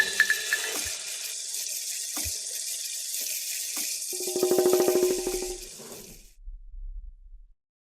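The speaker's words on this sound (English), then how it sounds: "Never mind, I'm going to take a shower." Water running steadily from a shower or tap in a home bathroom, a broad continuous hiss that swells briefly before cutting off, with a few soft knocks and clatters beneath it.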